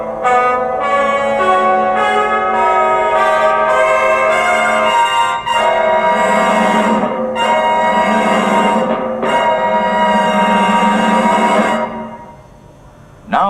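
Test tone signal played through a cheap Walmart Onn TV soundbar on the left channel: a sustained, bright, harmonically rich tone with bell-like overtones, loud and continuous for about twelve seconds before fading.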